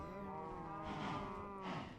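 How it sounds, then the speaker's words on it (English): Cows mooing in the Minecraft video game, several drawn-out bovine calls overlapping one another, loud and close, with no talking. "just repeating cow noises at that."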